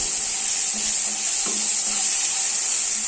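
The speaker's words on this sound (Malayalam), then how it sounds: "ഒരു മീഡിയം സൈസ് തക്കാളി ഇവിടെ ചെറുതായിട്ട് കട്ട് ചെയ്തിട്ടുണ്ട് അതുകൊണ്ട് നമുക്ക് ഇതിലേക്ക് ഇട്ട് കൊടുത്തൊന്ന് നല്ലപോലെ ഒന്ന് വഴറ്റിയെടുക്കാം" A chopped medium-size tomato is sautéed with onion in a hot pan. It gives a loud, close, unbroken sizzle with faint stirring taps underneath.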